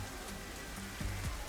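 Steady rain falling in the video game Master Detective Archives: Rain Code, a continuous even patter with a couple of faint low tonal sweeps underneath, no voices.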